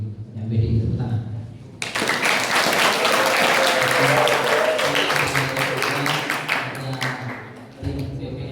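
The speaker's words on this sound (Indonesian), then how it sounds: "Tepuk tangan." An audience in a school hall bursts into sustained applause for about six seconds, loud and dense, with a voice speaking briefly before and after the clapping.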